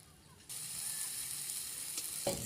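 Frying hiss begins abruptly after a brief quiet moment and continues steadily as fish curry base fries in a pan before garlic and cumin paste go in, with a faint clink near the end.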